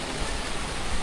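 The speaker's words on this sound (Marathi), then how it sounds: "हा बघा धबधबा दिसतो हाच तो धबधबा" Waterfall at Mahabaleshwar roaring as a steady, dense broadband rush, continuous and fairly loud with no pauses or voices.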